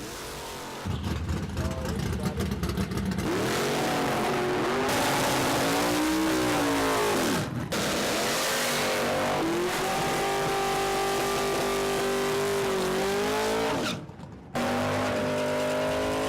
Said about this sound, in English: Heating the tires, Mr. Gagnon